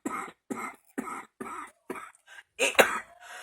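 A person with a nighttime cough and asthma coughs six times in a steady rhythm, close and fairly loud, ending in a harsher throat-clearing hack.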